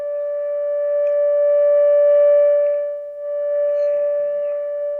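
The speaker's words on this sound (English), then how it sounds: "there's that 400 hertz tone" A steady 400 hertz modulation test tone from a Hallicrafters SX-140 receiver hums continuously at moderate loudness, dipping slightly in level partway through, with no voices.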